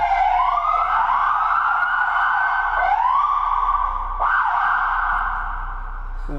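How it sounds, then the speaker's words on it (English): Police car siren switched on close by, loud rising and falling wails cycling repeatedly with a steady engine hum underneath, no talking. "So I'm gonna go ahead and turn on the siren here."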